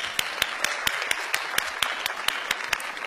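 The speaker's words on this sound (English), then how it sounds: "all of you guys deserve a round of applause." A high school graduation audience applauds the graduates. A quick, regular run of close claps, about a dozen, sounds over softer background clapping at fairly low volume.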